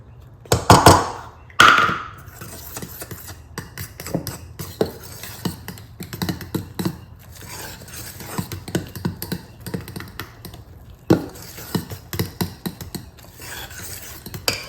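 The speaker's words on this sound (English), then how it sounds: "So I'm just gonna stir in this 1/2 cup of all-purpose flour." A utensil stirs all-purpose flour into vegan chocolate chip pancake batter in a bowl. Irregular soft taps, scrapes and clinks carry on throughout, with a couple of louder knocks at the start.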